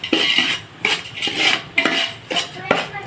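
A spoon scrapes and clinks against a metal pan while semolina is roasted in ghee for kesari, with rhythmic close stirring strokes and no voices.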